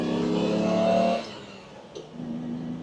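A rare vintage 4x4 engine hums at steady revs, then the note drops away as the driver shifts, and the engine settles back to a lower hum. It is heard close and alone.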